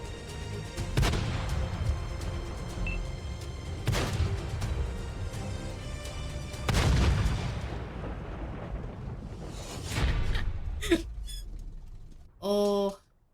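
Tank guns firing high-explosive shells in a video game: several heavy booming blasts with rumbling tails, spaced a few seconds apart, followed by a short sharp tonal burst near the end.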